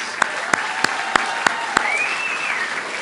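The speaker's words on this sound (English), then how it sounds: "let's give a big round of applause to our graduates" A graduation crowd at East Hartford Synergy Alternative High applauds its graduates: steady clapping under a handful of sharp, evenly spaced louder claps, followed by a rising whistle.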